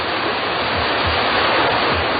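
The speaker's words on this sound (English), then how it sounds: "We'll flood that thing with water from all angles." Fire hoses blast water at full force in a radio drama, a loud, dense, continuous roaring rush like a waterfall that holds steady throughout with no voices.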